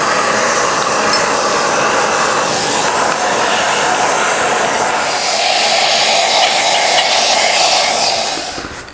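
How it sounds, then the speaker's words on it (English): A vacuum cleaner roars continuously at close range, sucking debris from a Massey Ferguson 23c engine cylinder, its whooshing suction shifting pitch slightly before it cuts off at the end. "I like to suck it out with a vacuum cleaner."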